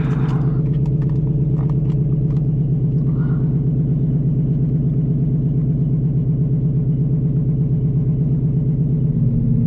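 A 2025 Ford Mustang GT S650 making 760 horsepower, with a 10R80 automatic, idles with a steady, loud, deep engine rumble that runs throughout, with a slight shift in tone near the end.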